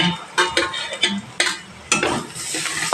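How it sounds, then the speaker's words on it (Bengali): Garlic and ginger sizzle in a pan after the onions have fried, with a steady crackling hiss broken by repeated scraping stirs and light utensil clinks close up. No one talks over it. "এই পর্যায়ে এসে আমি এখানে রসুন আর আদাটা দিয়ে দিব"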